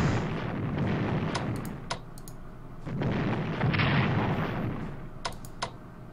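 Bombing explosions in the Strategic Command WWII strategy game, Allied 1939 Storm over Europe campaign over Greece: a rumbling battle bed with a few sharp bursts and pops scattered through, no talking.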